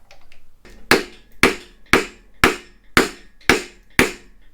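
Hammer blows tapping a crank hub onto an LT1 Gen 2 engine, seven evenly spaced sharp metallic strikes about half a second apart, each ringing briefly, close and loud.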